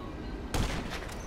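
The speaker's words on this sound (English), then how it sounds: "I'll kill you with my sniper." Sniper rifle fired in Grand Theft Auto, one loud muffled boom partway through with a brief rumbling tail, over a steady game background and no talking.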